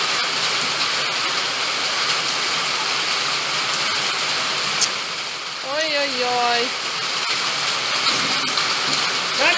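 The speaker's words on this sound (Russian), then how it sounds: "Солнце и дождь." Steady rain falls in sunshine outdoors, a dense hiss that runs throughout, with a voice exclaiming briefly partway through.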